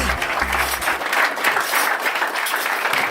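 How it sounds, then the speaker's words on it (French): Gala audience at a Lions Club event breaking into steady, dense applause, many hands clapping close and loud, with a low hum dropping out after the first second. "Sous l'applaudissement, sous l'applaudissement"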